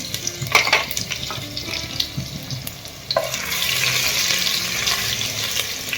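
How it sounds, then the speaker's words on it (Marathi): Garlic sizzles in hot tempering oil with mustard seeds, cumin, cinnamon and star anise for a Maharashtrian pavta rice dish, a steady close crackle and fry that swells louder midway with a few sharp spatters. "आणि लसूण टाकून दिले फोडणीला"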